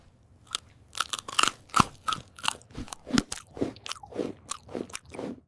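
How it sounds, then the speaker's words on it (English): Crunching bites of a cookie, a dozen or so crisp crackling crunches in an uneven chewing rhythm, close and clear with no voices. "C is for cookie"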